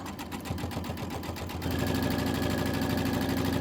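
Sewing machine stitching through a quilt block's layered fabric, a steady mid-pitched mechanical whir with rapid needle rhythm that starts slightly uneven and settles into a continuous, louder run.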